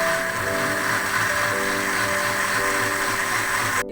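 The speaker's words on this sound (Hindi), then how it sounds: "अब हम इसको अच्छी तरह से ब्लेंड कर लेंगे।" Peach juice with black salt and a glass of water whirring in an electric blender jar, a steady loud motor drone with a grinding mechanical hum that runs unbroken for the whole stretch, no voices.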